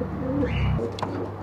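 Papos pigeons cooing in a bird shop, a low continuous coo rolling close by with a brief higher sound near its end.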